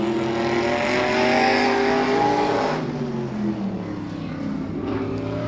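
A modified race car runs on the Claremont Motorsports Park track, its loud engine roaring steadily then easing off as it slows for a turn, with other engines droning in the background.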